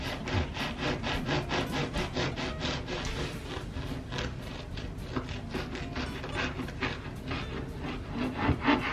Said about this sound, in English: I'm going to slice my own bread fairly thick